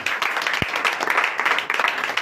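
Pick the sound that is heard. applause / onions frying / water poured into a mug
applause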